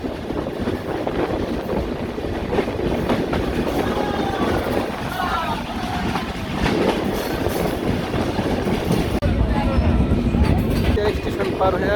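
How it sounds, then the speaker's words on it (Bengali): The Sundarban Express passenger train runs on rails towards Kushtia in Bangladesh, a steady loud rumble with rhythmic wheel clatter and faint squeals, heard from on board, with a voice now and then over the noise. "দিনের আলোয় প্রথম কোনো যাত্রীবাহী ট্রেন কুষ্টিয়াতে প্রবেশ করতেছে"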